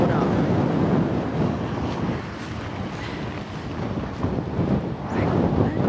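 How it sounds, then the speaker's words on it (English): Heavy wind buffets the microphone throughout, a loud continuous rumbling roar that swells and eases. "Sorry if it's really windy"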